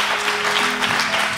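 A church congregation claps and acclaims during a French-language sermon, a steady, even wash of applause running the whole moment without any voice on top.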